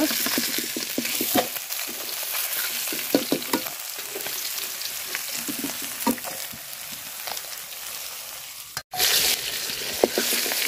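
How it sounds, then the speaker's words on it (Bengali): Fish sizzling in hot oil, a continuous crackling hiss broken by occasional clinks and scrapes of a utensil in the pan. "তো বাকি যে মাছ ছিল ওইগুলো ভাজা নিচ্ছি।"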